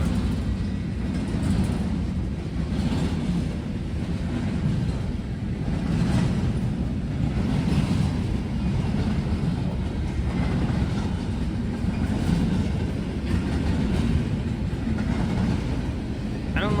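A train rolls past on the tracks at a busy rail junction, a loud continuous rumble with faint rhythmic wheel clicks throughout, close and steady for the whole stretch with no pause.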